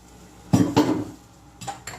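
Gujarati dal stirred in a cooking pot, giving a few short, close metallic scrapes and clinks of a spoon against the pot with quiet gaps between them and no talking.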